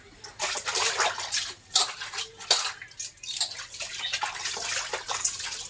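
Water splashes and sloshes as clothes are washed by hand at home, with irregular close bursts of wet slapping and rinsing that rise and fall without a break and no voices over them.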